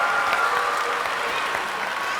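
An audience at a youth conference applauds, a dense, even wash of clapping from a large crowd that holds steady for a couple of seconds without a break.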